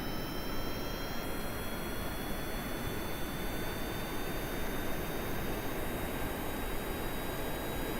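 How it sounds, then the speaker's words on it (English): Small jet engines in Kerbal Space Program whine and roar continuously, a steady broadband rush with thin high tones held throughout, fairly quiet and unbroken, no voices. "So these little jet engines got enough to even get this moving."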